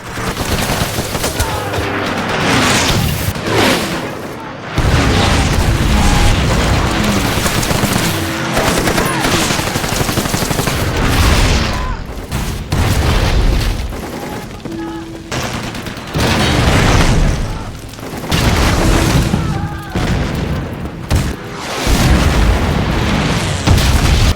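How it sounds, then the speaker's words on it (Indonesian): Loud, dense barrage of explosions and rapid gunfire from a US air force attack on Iwo Jima, booms rolling one after another with brief lulls. "pesawat angkatan udara Amerika menyerbu wilayah mereka dan menyelimuti daerah itu dengan tembakan dan juga bom"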